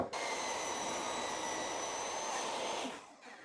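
A power saw rips a 1x6 wooden board lengthwise at 2 3/8 inches, a steady loud whirring roar that holds for about three seconds, then winds down and cuts off.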